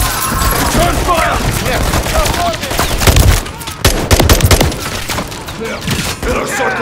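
Rapid automatic gunfire in Call of Duty Modern Warfare III, with dense bursts and heavy thuds filling a loud combat scene, and some brief gaps between volleys.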